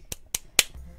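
One person claps three times, slow and evenly spaced, with sharp and fairly close hand claps and quiet in between.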